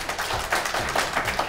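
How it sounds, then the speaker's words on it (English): A studio audience at a live political broadcast applauds steadily in a brief, dense burst of clapping, with no speech. "can we get a round of applause from our audience"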